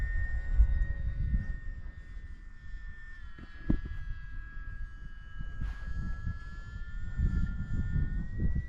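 An E-Flite Valiant 1.3m RC plane flies in gusty wind, its electric motor giving a steady, moderately distant whine with faint shifting tones over low wind rumble and buffeting.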